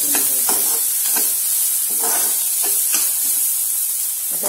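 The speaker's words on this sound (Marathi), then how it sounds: "आता कांदा पण व्यवस्थित सोनेरी कलरवरती आपण थोडं परतून घ्यायचं।" Onions being sautéed in a pan until golden for paneer bhurji give a steady close sizzle and hiss, with a spoon scraping and stirring at an irregular pace throughout.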